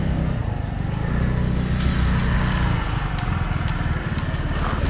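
A motorcycle engine runs loud and close at a steady idle, its low, even rumble continuing throughout, with occasional faint clicks and background commotion.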